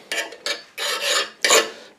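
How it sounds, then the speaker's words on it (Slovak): Drill bits are sharpened on a bench grinder, producing four close, harsh rasping strokes of varying length with brief pauses between them, no voices present. "idem brúsiť vrtáky"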